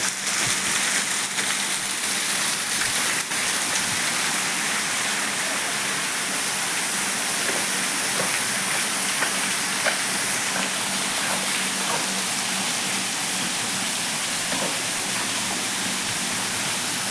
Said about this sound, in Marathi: विरोड्यामध्ये धबधबा सापडलेला आहे, आपण बघू शकता.